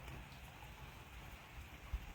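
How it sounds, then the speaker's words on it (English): Light rain falls on a cold day, a faint steady patter and hiss in the background with one small soft thump near the end, and nobody speaking. "Yeah, it is raining."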